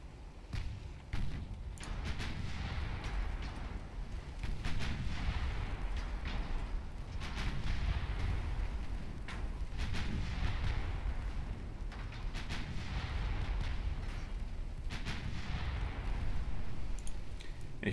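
Small 2-inch naval guns firing in a warship battle in Ultimate Admiral Dreadnoughts, a long run of rapid, overlapping bangs and booms at steady loudness, repeated bursts over a rumbling battle background.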